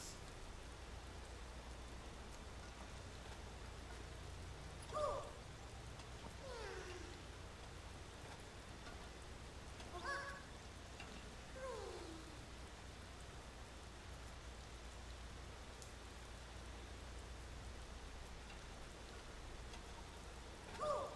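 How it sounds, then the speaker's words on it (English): Steady rain falling in the Zelda: Tears of the Kingdom game world, a soft continuous hiss at low level with a few brief chime-like tones and swooping sounds rising above it at intervals. "Stop raining, please."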